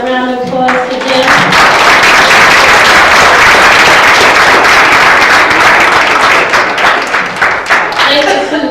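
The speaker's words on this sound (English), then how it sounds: "Can we give another round of applause to Jim?" Sustained audience applause after a talk at a women's history month event, loud dense clapping filling the room for several seconds before tapering off.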